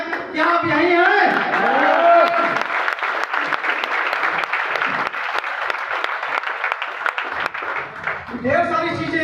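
Sustained audience applause from a seated crowd at a business leadership gathering, dense and loud throughout, rising again near the end with a few scattered voices.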